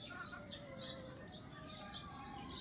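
Chickens in a small backyard coop in Cavite, quiet clucks and short chirps repeating close by at a low level over a steady background hiss.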